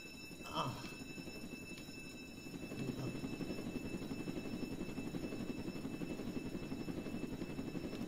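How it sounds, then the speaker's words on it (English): A steady, droning rotor-like hum of a helicopter in the video game Jailbreak runs throughout, loud and continuous, with a brief sharper sound near the start. "My helicopter is dropping!"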